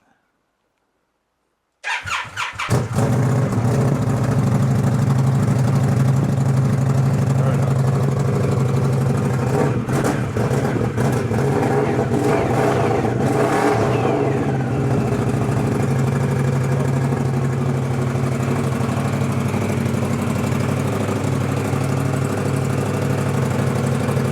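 A motorcycle fitted with Bassani fishtail exhausts starts up and settles into a loud, steady, throbbing idle close by, with a few brief revs partway through.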